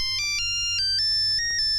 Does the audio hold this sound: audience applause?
no